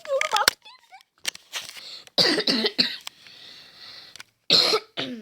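A few sharp coughs and throat-clearing bursts, close to the mic, separated by short pauses and quiet breaths.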